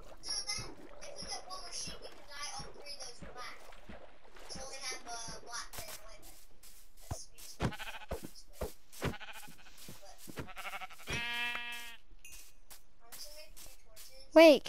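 Sheep in a video game bleat in short wavering calls among clicky game sounds, with players talking over much of it.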